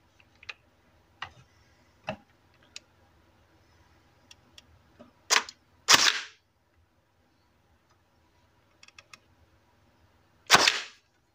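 LN-01 closed-bolt foam blaster being handled, with small sparse clicks of priming followed by three sharp snapping shots spaced a few seconds apart, close and crisp in an otherwise quiet room.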